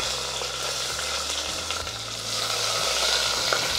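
Two medium onions, sliced lengthwise, fry in oil with spices for white kuska with a steady close sizzle. Occasional stirring scrapes and clicks sit over it, and there is no talk.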